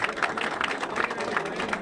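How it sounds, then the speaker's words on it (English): A crowd at a byelection headquarters applauds with fast, dense clapping that stays steady and moderately loud, with speech faintly mixed in. "a round of applause for Paul Antle,"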